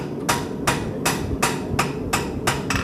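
A farrier strikes a horseshoe on the horn of an anvil while shaping a square toe, about seven sharp ringing hammer blows in a steady rhythm, close and loud.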